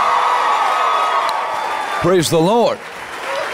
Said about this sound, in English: Give Jesus a great big hand clap all over the sanctuary.